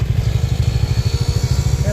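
A motorcycle engine running steadily while riding, a loud pulsing low drone with a regular throb, close and continuous.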